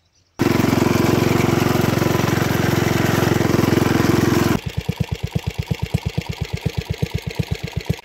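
A motor mower used for hay harvest on a meadow runs loudly and close at steady high revs, then drops to a slower, chugging idle with a clear pulsing rhythm.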